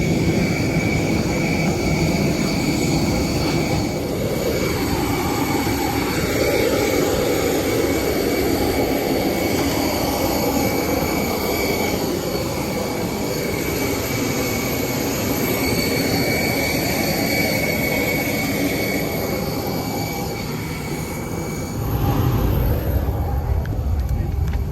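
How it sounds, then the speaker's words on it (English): Steady roar of a 12-year-old Jetstar Airbus A320's jet engines heard from inside the cabin, a continuous loud broadband hum with a brief shift near the end. "The aircraft that will be taking us down to Melbourne today is a 12-year-old Jetstar A320"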